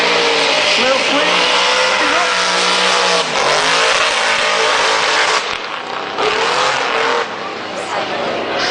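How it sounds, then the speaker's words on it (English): A twin-turbo V8 Nissan S15 drift car at Lydden Hill screams past close by, its engine revving hard and rising and falling as it slides through a corner. A voice talks over the roar. "the twin-turbo V8 S15"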